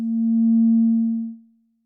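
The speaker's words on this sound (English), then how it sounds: "we will use a sine wave as the input signal" A pure sine wave test tone used as a dry, unprocessed input signal for a bitcrusher audio plugin, holding one steady pitch for about a second and a half before fading out.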